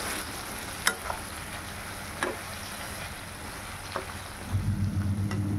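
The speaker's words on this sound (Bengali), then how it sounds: "এবার বাকি ঝিঙেটুকুও এর মধ্যে দিয়ে দেব, দিয়ে ভালো করে নেড়ে চেড়ে নেব।" Ridge gourd is stirred and fried in a pan for jhinga paturi, with a gentle continuous sizzle. A few isolated spatula knocks stand out, and a low rumbling stir comes near the end.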